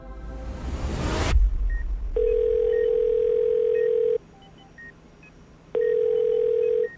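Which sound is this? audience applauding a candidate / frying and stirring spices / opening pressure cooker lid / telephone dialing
telephone dialing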